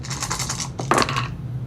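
Dice clattering onto a table during a World War II strategy board game, a quick burst of small rattling hits, then a second short tumble before settling, close and alone without talk.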